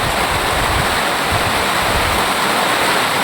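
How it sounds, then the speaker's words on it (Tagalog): Heavy rain pours down in a constant, loud, dense hiss and roar that fills the space without pause, steady and enveloping with no voices over it. "Malakas ang ulan."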